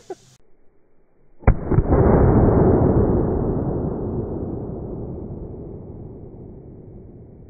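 A single 12 gauge blank cartridge goes off outside a firearm in one sharp, loud bang, followed by a long roaring rumble that slowly fades over several seconds.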